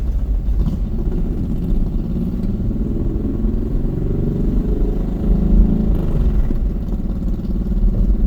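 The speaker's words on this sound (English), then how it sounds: "All that downshifting." A vehicle engine downshifting on a busy city street in New York, a loud, steady, rumbling mid-range engine drone with rising revs near the end, close and continuous, with no talking.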